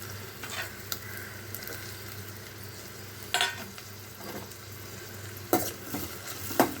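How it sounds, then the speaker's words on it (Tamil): Steady sizzling of chopped onions frying in hot ghee, with occasional stirring and scraping of a utensil against the pan. "டைரெக்டாக வெங்காயம் போட்டுடலாம் அதில் நெய்யில் பொடியாக நெருக்கினா ஒரு பெரிய வெங்காயம்"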